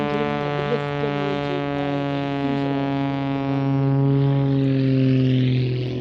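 A Pitts S2E aerobatic propeller plane flies an airshow display, its engine a loud, steady, buzzing drone rich in harmonics, dropping slightly in pitch as it passes and fades toward the end.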